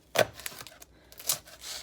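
A regular utility knife chops through an onion on a kitchen board, giving a few sharp, close knocks spaced apart, with light rustling between the cuts.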